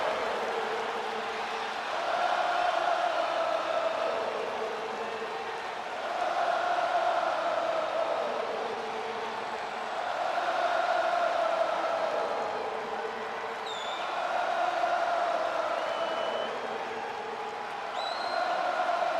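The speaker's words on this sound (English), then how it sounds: "we just hear the crowd singing" Wrestling arena crowd singing together, a large massed chant rising and falling in slow waves about every four seconds, distant and steady, with no other sounds over it.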